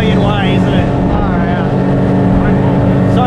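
Motorboats on Cockburn Sound near Fremantle, Western Australia, give off a loud, steady engine drone that stays close and continuous, with wind or water noise mixed in.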